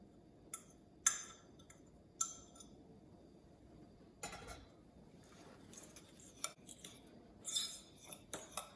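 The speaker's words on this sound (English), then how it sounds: "And then just start stirring it in." A spoon scrapes and clinks now and then against a bowl while melted butter is stirred into graham cracker crumbs and sugar for a cheesecake crust. The sounds are faint and sparse, set against a quiet background.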